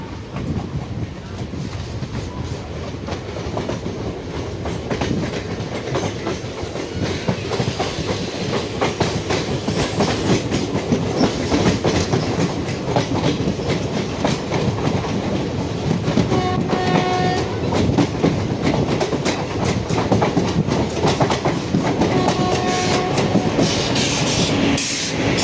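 Passenger train running on rails from Moradabad to Lalkuan, heard from aboard: a steady loud rumble with rhythmic clickety-clack of wheels over rail joints throughout, and brief horn-like tones later on.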